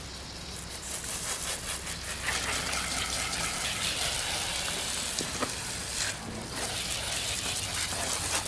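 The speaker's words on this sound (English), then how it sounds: "Let's see what happens when we give her a rinse" Pressure washer jet rinsing soapy suds off a car, a steady loud gushing hiss of water spray striking bodywork, continuous throughout with slight shifts as the spray moves across panels.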